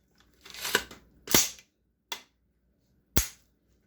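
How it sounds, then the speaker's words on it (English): AR-platform rifle being function-checked, with the charging handle pulled back and released and the trigger dry-fired, giving a few sharp metallic clicks and clunks spaced over a few seconds, close and fairly quiet with no talking. "Grab charging handle. Pull it back. Let it go. Hear that little clunk?"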